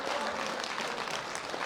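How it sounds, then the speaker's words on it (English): Continuous, dense applause from a crowd at a junior men's world bench press championship, loud and steady throughout the short stretch. "One more round of applause."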